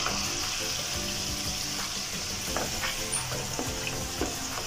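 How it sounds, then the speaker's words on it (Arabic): Chicken seasoned with salt and black pepper sizzles steadily in a hot pan as it is sautéed for a rice and chicken casserole, with a continuous close frying hiss and a few soft stirring clinks. "احنا هنشوح الفراخ بتاعتنا مع بعض"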